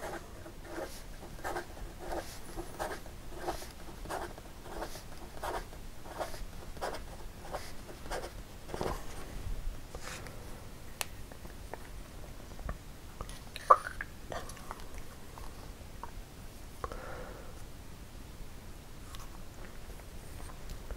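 Venvstas Magna fountain pen with a medium nib writing fast on paper, close scratchy strokes in a quick steady rhythm, then sparser, irregular pen sounds with a few small clicks.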